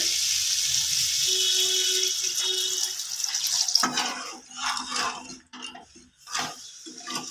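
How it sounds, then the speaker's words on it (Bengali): A small amount of water poured into a pan of spiced tangra fish curry with potato and eggplant, a steady close trickle, followed by sizzling and clattering of the pan and utensils. "এবার আমি দিচ্ছি অল্প করে জল"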